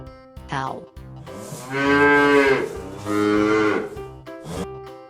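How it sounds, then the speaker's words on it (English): A cow mooing loudly and close by, with two long, drawn-out moos between shorter lowing sounds at the start and end. "Cow."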